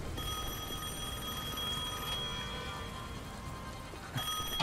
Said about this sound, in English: I guess the phone still works.